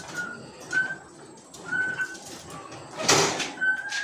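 Zebra doves, six perkutut birds kept in a breeding cage on a bird farm, give repeated short coos at a steady rhythm, with a brief rustling clatter partway through and a faint hum behind.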